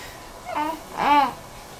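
A baby babbles in two short vocal bursts with a brief pause between them, fairly close and soft.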